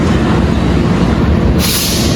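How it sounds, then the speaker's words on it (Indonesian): A KRD commuter train passes on the rails near Sidoarjo station, a steady loud rolling rumble with wheel and carriage noise, and a sharp hiss rising near the end. "Itu kereta apa ya? KRD kayaknya."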